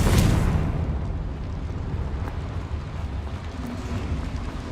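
A Confringo blasting curse goes off inside a small mine in Hogwarts Legacy, a loud explosive burst at the start that trails into a long rumbling, crackling wash of debris and low roar.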